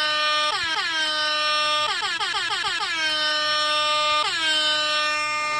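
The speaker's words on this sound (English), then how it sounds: "Somebody give me an air horn." Several loud air horn blasts sound in quick succession, including a rapid stuttering burst, each one bright and brassy with sharp onsets, heard alone and close.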